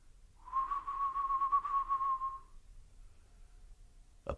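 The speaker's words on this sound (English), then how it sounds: "a low whistle" A single low whistle in a tense Sherlock Holmes audio drama set at night, held steady for about two seconds against near silence, followed by a faint sharp click.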